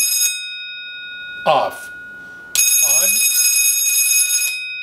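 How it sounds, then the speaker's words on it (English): Bell System KS-20375-L1 loud telephone bell rings in a brief burst, then again in a long, piercing, sustained ring; someone speaks between the rings and over the second one. "You could wire that into series on one of your leads and it would ring the bell."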